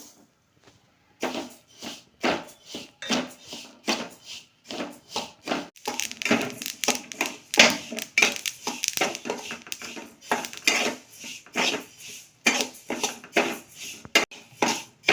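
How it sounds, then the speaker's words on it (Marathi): Sesame seeds dry-roasting in a pan while being stirred, giving a steady run of quick scraping and light clinking strokes near and fairly loud, with no talking. "तीळ भाजून घेऊया"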